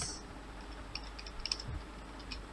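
Faint, quick keyboard taps come in a loose, uneven string as code is typed on a computer keyboard in a quiet room, with no talking.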